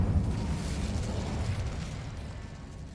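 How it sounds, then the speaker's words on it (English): Incendio fire spell cast in a video game, a loud, rushing burst of fiery rumble and crackle that slowly fades over a few seconds. "Incendio."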